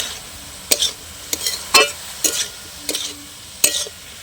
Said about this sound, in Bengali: খুব ভালো করে এবার আমি কষে নেব